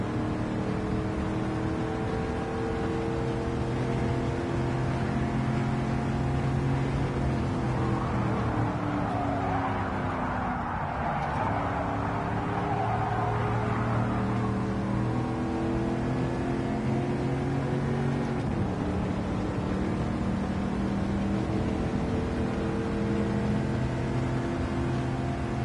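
A Chevy race car engine in a racing video game drones steadily and loud for the whole stretch, its pitch sweeping up and down through gear changes with a brief dip midway, no talk over it.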